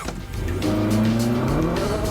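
A Ferrari 458 Speciale or Porsche 911 GT3 launches hard from a standstill. The engine note climbs steadily and loudly, with a hint of tyre noise, close by and without speech.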